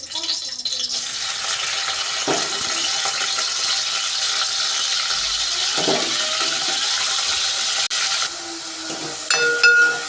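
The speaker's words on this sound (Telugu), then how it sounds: "అదే ప్యాన్లో కొద్దిగా ఆయిల్ పోసుకుని ఎండ్రేళ్ళని ఫ్రై చేసుకోవాలి ఫ్రెండ్స్" Dried prawns fry in a little oil in a pan, giving a steady close sizzling hiss that runs without a break, with faint clinks and scrapes near the end.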